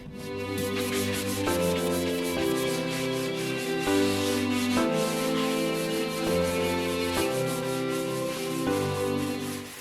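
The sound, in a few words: sanding torn drywall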